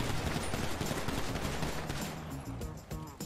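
Rapid gunfire in a video game, shots fired at a car's tires, loud, dense and continuous bursts with no talking.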